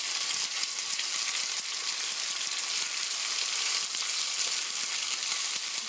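A beef roll fries in a pan with a dense, even sizzle that hisses close and constant throughout, no voices.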